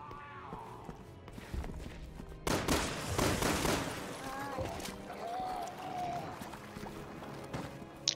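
Gunfire in the survival horror game Resident Evil 6, a cluster of loud shots in quick succession set against game ambience, while a voice speaks intermittently.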